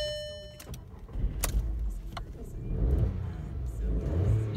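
A Skoda Fabia 1.2 SE hatchback at a car dealership cranks and fires up, then revs in a steady mid-pitched rumble that rises and falls, with a few sharp clicks early on and a voice talking over part of it.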